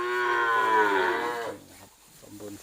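A long, loud moo from cattle eating straw at the Wang Prachop cattle and buffalo market in Tak, wavering for over a second before fading into quieter shuffling and a few low, softer sounds.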